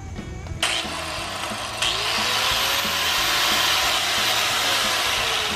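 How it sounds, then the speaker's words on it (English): An abrasive cutting wheel on an angle grinder slicing steel for a custom welded Jeep ZJ bumper, a loud continuous whine that steps up in intensity as the cut begins and holds steady, no talk. "without further ado, let's cut. I don't have much cutting wheel left."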